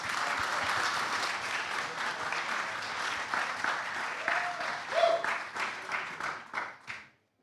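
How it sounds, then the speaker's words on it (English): A conference audience at a crypto panel event claps for the panelists, a full, even round of applause with a faint voice or two underneath that tapers off and stops abruptly near the end. "Let's give a round of applause to our panelists."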